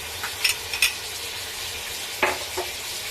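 Mutton fries in a pan with garlic ginger paste under a steady soft sizzle, with a few sharp scrapes from stirring. No one speaks.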